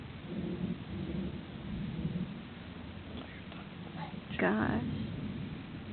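Thunderstorm with a lot of lightning under a black sky, steady rain hiss throughout and a sharp thunder crack near the end, with people talking quietly over it.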